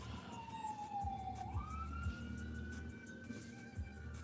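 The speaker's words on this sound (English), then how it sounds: "whoa, ambulance trying to get through" An ambulance siren sounds continuously as it passes on the road, its wailing tone dropping and then rising into a higher steady pitch, over low traffic rumble and a few soft thumps.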